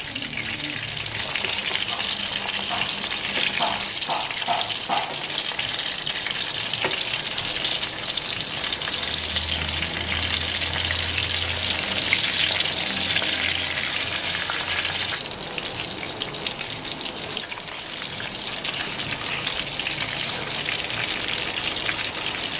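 Semolina-coated fish fries in a pan over a low flame, a steady, close sizzle with crackling pops running evenly throughout, with a few light clinks early on.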